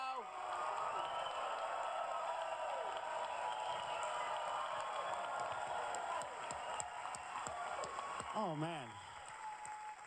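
A studio audience at a comedy show applauds and cheers for a comedian; steady crowd clapping with scattered whoops, under a man's brief spoken exclamation and some talk.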